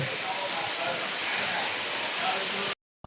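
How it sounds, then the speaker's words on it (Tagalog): Heavy rain pours steadily in a dense, loud hiss that stops abruptly near the end, followed by a brief knock. "Grabe ang ulan."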